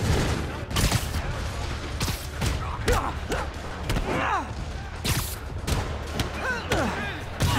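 Rockets streak in and burst during a Marvel's Spider-Man Remastered battle, a busy run of thumping blasts and whooshes over a constant rumble of game music and ambience, with voices mixed in.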